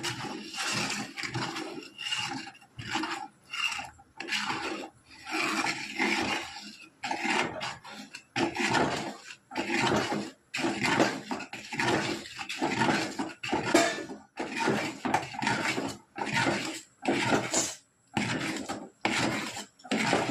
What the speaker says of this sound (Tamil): கை எடுக்காம நல்லா குழவிக்கிட்டே இருக்கணும்.